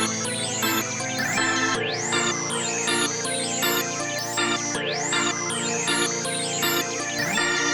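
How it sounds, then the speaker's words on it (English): Organ-preset chords play a melody in a crank-style trap beat built in FL Studio, with pitched sweeps, hi-hat rolls and heavy bass looping steadily and loudly throughout. "another pretty common component of these crank beats is some type of organ sound"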